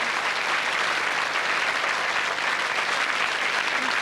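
Studio audience applause on a Las Vegas chat show, dense steady clapping from a large crowd that holds an even, loud level throughout, no talk.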